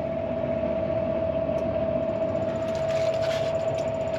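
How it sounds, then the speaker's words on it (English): A Fendt 930 tractor's PTO drives a Supreme 1700 feed mixer on a dairy farm, a steady loud droning hum with a constant mechanical tone, continuous and close, no talking. "turn on the PTO."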